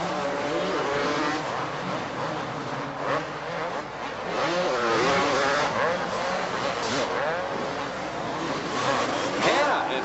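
Supercross motorcycles race at the 1984 Dallas Supercross, buzzing two-stroke engines rising and falling in pitch as riders accelerate through the course, steady and fairly loud under a busy crowd and announcer talk.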